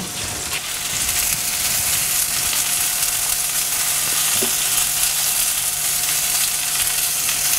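Breaded fish frying in a hot pan, a loud, close, continuous sizzle with crackling spatter and occasional faint utensil scrapes, steady from start to end.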